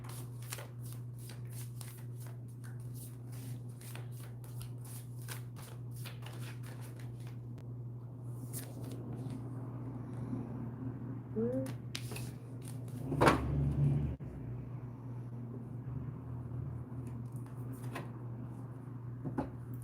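Oracle cards being shuffled by hand during a live reading, a steady run of soft riffling and flicking that goes on throughout, close and fairly quiet over a constant low hum, with a brief louder handling burst near the end.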